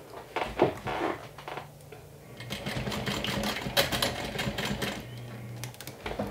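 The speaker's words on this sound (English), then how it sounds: "I'm going to go ahead and top stitch the top part only right now." A home sewing machine top stitches the upper edge of a Haunted Mansion-inspired crossbody bag. Short bursts of fast, quiet mechanical whirring and needle clatter start and stop close by, with no voices.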